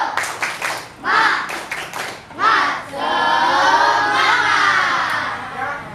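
Classroom group doing a rhythmic spirit clap, a few quick sharp claps in bursts followed by children shouting and cheering loudly together.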